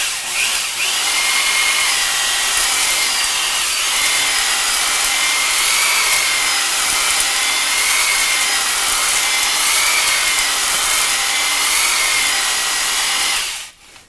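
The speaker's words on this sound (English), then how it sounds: "we just got some ZEP 45 that we're using to lubricate the balls on the hone here" A ball hone lubricated with ZEP 45 working inside metal for a boat fork, a steady continuous high grinding whir that runs loud and unbroken for about thirteen seconds before cutting off abruptly.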